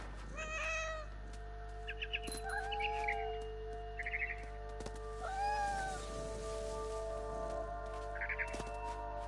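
A cat meowing in the video game What Remains of Edith Finch, several short mews spread over a quiet outdoor ambience with birdlike chirps and a low steady hum.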